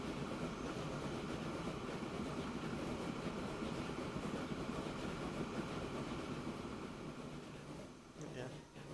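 A train running on rails in the Transport Fever 2 video game, a steady loud rumble of wheels with faint rhythmic clatter that eases slightly near the end.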